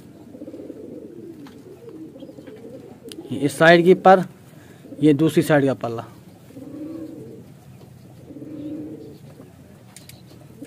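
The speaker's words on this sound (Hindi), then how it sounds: "तो ये बिल्कुल बेबी पिजन्स है।" Baby pigeons coo softly in a loft, with low, repeated murmuring calls between louder stretches of someone talking close by.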